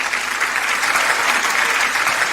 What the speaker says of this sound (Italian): Facciamo un applauso per Rosemary.